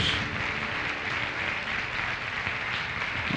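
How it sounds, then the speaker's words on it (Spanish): Dense, steady applause from a congregation during a church service, sustained and even throughout with no voices standing out. "Dale un fuerte aplauso a nuestro Dios."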